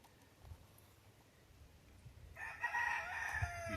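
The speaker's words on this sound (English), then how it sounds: "every rooster I got starts crowing" Several roosters start crowing in the background, a faint, somewhat distant chorus of cock-a-doodle-doo calls rising after a quiet start, with low rustling and handling noise underneath and no talk.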